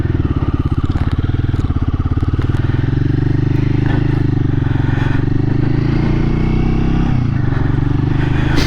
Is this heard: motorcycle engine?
yes